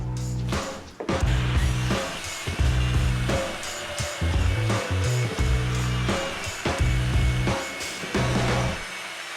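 Power sanding a wooden cosplay shield, a Hylian Shield from Skyward Sword, to reduce its thickness: loud motor whine in repeated passes, pulsing on and off with brief pauses between strokes, alone without talk.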